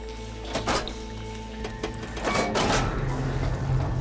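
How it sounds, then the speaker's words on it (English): Water-flow machinery switching over in a desert ruin of the video game Horizon Forbidden West: a few clunks and thuds, then a low mechanical hum that swells toward the end, fairly quiet and with no one talking. "Sounds like the water's switched."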